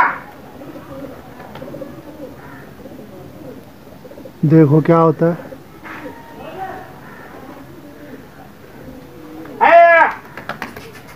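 Pigeons coo in two distinct bursts of throaty, rolling calls nearby, with someone talking quietly in between.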